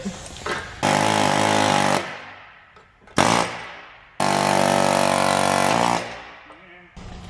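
Two long bursts of loud, rapid pneumatic air-hammer hammering knocking out subframe bushings on an R33 Skyline, each lasting over a second, separated by brief pauses with clanks and shorter rattling hits.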